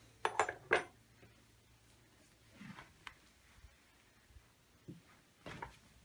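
Vintage silverware turned up in a box of tools from an auction lot and is handled briefly, giving a few light, close metallic clinks near the start followed by faint soft rustles in a quiet room.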